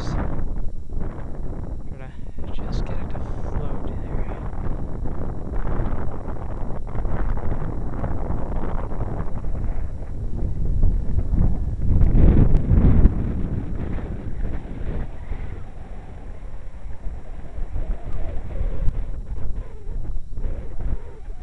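Strong gusting wind buffets the microphone outdoors while a 750mm Airfield P-47 model warplane flies, a broadband roar swelling to a loud peak midway, with someone speaking over it.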